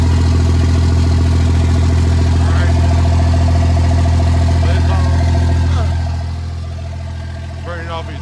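A 2nd gen Cummins diesel truck engine idles with a loud, steady low rumble that drops in level near the end, while someone talks briefly over it.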